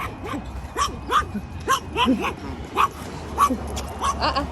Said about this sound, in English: See, you don't need to bark at them.